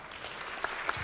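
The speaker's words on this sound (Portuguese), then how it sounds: "eu peço todos uma salva de palmas." A congress audience applauds the introduction of an expositor, giving a short, fairly quiet wash of steady clapping with a couple of sharper claps standing out.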